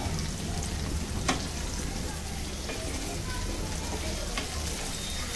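Gatta, gram flour dumplings, deep frying in hot oil: a dense, even crackle and hiss running throughout at moderate level, with one brief clink near the start.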